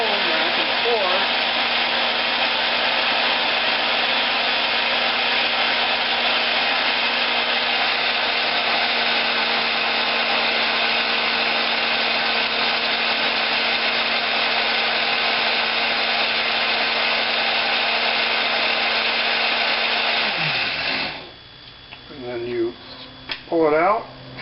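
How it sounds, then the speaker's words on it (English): A power hone whirs steadily inside an oiled rocker arm bore on a 207 engine, loud and continuous for about twenty seconds before winding down and stopping, followed by a few clattering handling sounds. "And then we just run that hone back and forth."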